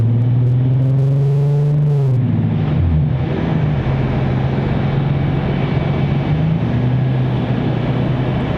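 Loud car driving past near Raleigh Durham airport, a deep rumbling engine note that rises and falls as it goes by, followed by ongoing broadband traffic roar.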